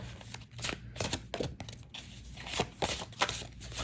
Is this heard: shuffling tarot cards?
yes